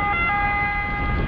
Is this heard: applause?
no